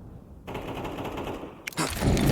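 Sharp automatic rifle fire rattles in Counter-Strike 2 during a professional NAVI versus Team Spirit match at IEM Katowice 2025, a continuous burst followed by a louder crack and a heavy blast of sound.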